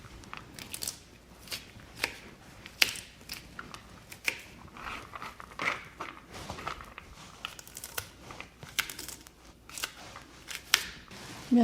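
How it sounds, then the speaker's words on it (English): Matchstick carrots chopped with a knife on a board, a run of sharp, irregular crisp cuts and taps, close and fairly quiet, with no voices. "I'm going to chop up some matchstick carrots"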